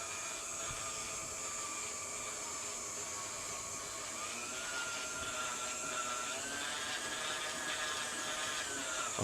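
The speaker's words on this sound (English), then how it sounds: "I just turn my machine off and on to just keep my flour from going everywhere." Stand mixer running on cookie dough for chocolate chip cookies, a steady mid-level motor whir with a slight pitch shift partway through, continuous and fairly close, with no voices.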